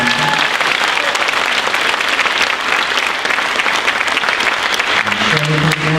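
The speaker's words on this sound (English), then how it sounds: "If we could have a round of applause for Trevor Conklin." Loud, sustained applause from a middle school spring concert audience for a 7th grade piano soloist, a dense wash of clapping filling the hall throughout with no break.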